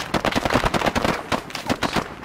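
Automatic gunfire in the combat video game ArmA 3: rapid, dense bursts of shots crackle loudly and continuously for about two seconds.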